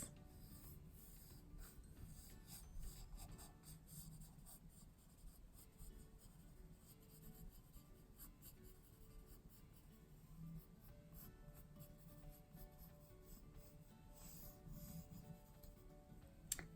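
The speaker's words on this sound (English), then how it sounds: "so let's draw some grass." A pencil scratches grass strokes onto paper in quick, soft, repeated flicks, heard close up but faint, with no speech.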